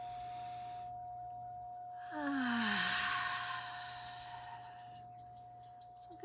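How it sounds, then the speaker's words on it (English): Audible breath sent out with sound during a guided breathing exercise in a forest setting, one long rushing exhale lasting a few seconds before fading back to quiet background with a steady tone underneath. "Breathing in, and when we breathe out with sound."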